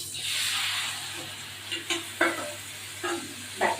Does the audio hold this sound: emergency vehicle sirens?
no